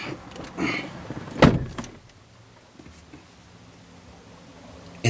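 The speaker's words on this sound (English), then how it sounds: "go ahead and close the door" A single solid Porsche Panamera Turbo door thud, preceded by some quiet movement, then a hushed interior with faint low hum.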